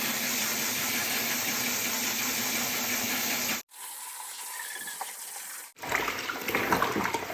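Shower head running water into a baby bath, a loud continuous splashing rush that cuts off abruptly, leaves a quiet gap with faint clatter, then resumes close by.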